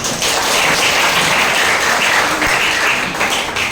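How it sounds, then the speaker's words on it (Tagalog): A church congregation at a Holy Spirit baptism service in Sto. Tomas, Batangas claps together for the Lord, loud, close and continuous across the whole stretch. "Sabay palakpak sa Panginoon."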